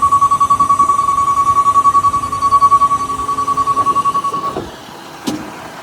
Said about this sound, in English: Engine sounds great, obviously no leaks.